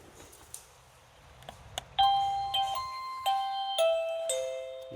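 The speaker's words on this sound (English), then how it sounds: "you'll take your chime device, is basically your inside doorbell chime" An indoor doorbell chime unit rings out a clear electronic melody of several bright ascending and descending tones, each note ringing and decaying over the next, preceded by a few faint clicks and taps in a quiet room.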